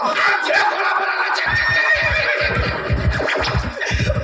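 A horse gives a loud, drawn-out whinny with a shaky, trembling quality, close by, followed by rapid low pulsing snorts.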